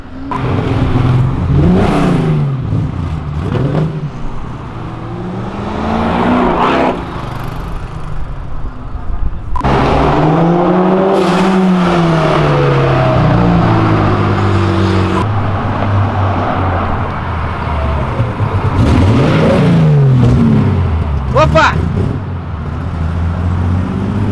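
Classic cars pass one after another along a city avenue, their engines rising and falling as each car sweeps by up close, with loud revving and passes repeating across the whole stretch.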